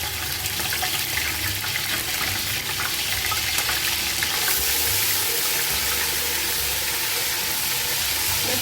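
Garlic-ginger paste spits and hisses in hot oil for pulao, a loud dense rushing sizzle that holds steady for several seconds with no voices.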